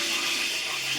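Water swishes and trickles briefly inside a freshly washed utensil bowl, a close, steady splashy sound with no talk.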